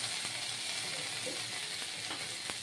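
Ginger paste frying in hot oil gives a steady, dense sizzle with a few faint stirring taps, close and even throughout, with no voices.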